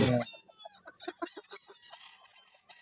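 A Sweater Boston white stag gamefowl crows at a gamefarm, a single ragged crow lasting about two seconds with a rough, wavering tone, fairly close and alone, with a brief noisy burst at the start.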